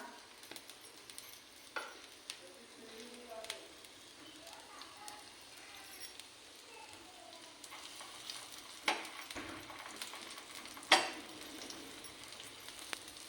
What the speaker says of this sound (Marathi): लसूण चांगला लाल होऊन द्यायचा.